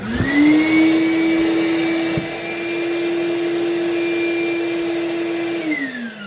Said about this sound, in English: The vacuum should turn on once the mouse hits that sensor.